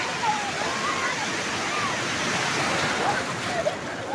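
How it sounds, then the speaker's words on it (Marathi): Steady roar of Arabian Sea surf breaking continuously at Ganpatipule beach, with faint distant voices and shouts drifting over the wash of water. "लाट आली लाट आली मोठी लाट आली"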